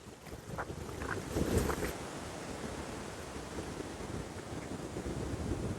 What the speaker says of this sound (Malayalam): കണ്ട കടൽ വന്ന് അടിച്ചിട്ട് പോണേ